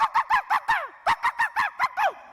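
Someone vocally imitates an angry hen guarding chicks from a cat, a rapid series of about eleven harsh, honking squawks in two bursts, loud and close.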